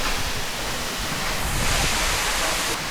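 A waterfall in West Sumatra roars as a steady, broadband rush of water, loud and close, with no voices over it.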